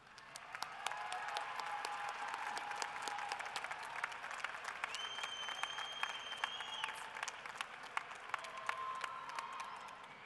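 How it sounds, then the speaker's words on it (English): Sustained applause from a university commencement audience at UCCS, dense steady clapping that fills the hall at moderate distance, with a few whistles and cheers rising above it. "let's give your supporters a round of applause"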